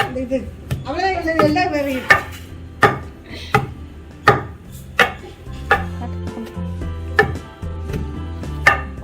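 A single garlic clove is chopped on a board in a village kitchen making sesame podi, heard as about a dozen sharp, rhythmic knife thuds close by, with a voice speaking at the start.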